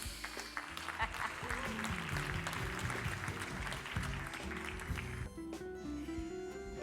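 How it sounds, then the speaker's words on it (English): Applause from an audience at a charity event against malaria, greeting footballer Mark Fish; steady clapping runs for about five seconds before fading, with a voice and some tonal sound taking over near the end. "A round of applause for Mark Fish."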